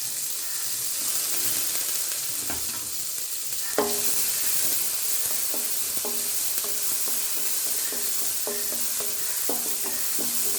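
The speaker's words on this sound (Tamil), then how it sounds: "பூண்டை கொஞ்சம் எண்ணெயில் வறுத்த பிறகு வெங்காயம்." Garlic and onion fry in hot oil with a constant dense sizzle, broken by occasional clacks and scrapes of stirring close by. No voices.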